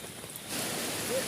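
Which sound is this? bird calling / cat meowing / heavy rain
heavy rain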